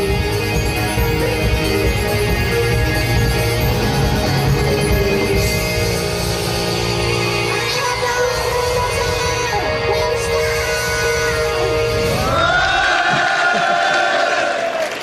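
A concert crowd at Japan Expo 2010 cheers and yells loudly and without a break, a dense roar of voices with some shouts rising out of it, close and full for the whole stretch.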